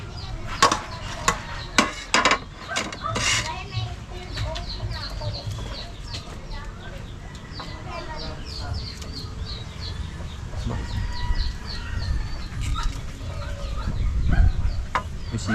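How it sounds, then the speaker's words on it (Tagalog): A hen with newly hatched chicks fills a farmyard with thin, high peeping chirps and occasional clucks, steady throughout, mixed with clattering knocks early on and a low background rumble. "May sisiw na yata ang bago ah."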